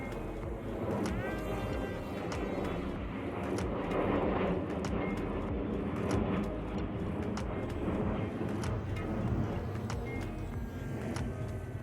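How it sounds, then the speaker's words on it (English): A full-size airplane flies overhead near an airport, a broad, steady roar that swells slightly and holds at moderate loudness, with a few faint clicks over it. "I'm sorry about the actual airplane noise in the background on this Maiden, but I am near an airport, so they're coming overhead"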